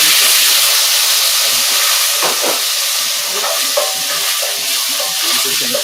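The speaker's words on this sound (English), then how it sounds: "The olive oil is what we're going to saute our vegetables in." Onions and celery sauté in olive oil in a pan, giving a loud, steady sizzle that runs the whole time, with a few soft clicks and scrapes of stirring near the middle and no talking.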